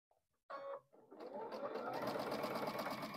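A sewing machine runs steadily for a few seconds, stitching pieced quilt blocks together, with a brief start-stop before settling into a continuous close, loud whir.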